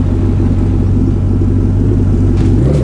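A Formula 1 car engine in the Roblox game A Dusty Trip, a loud, heavy, steady rumbling drone that lifts slightly in pitch near the end, alone without speech.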